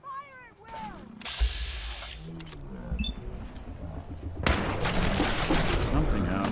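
Gunfire erupts in a foggy battle against gulpers in Fallout 4 Far Harbor, with broadband bursts of shots that grow denser toward the end and mix with shouting voices and creature cries.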